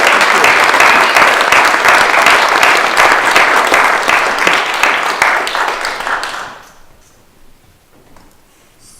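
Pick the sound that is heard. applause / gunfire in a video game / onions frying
applause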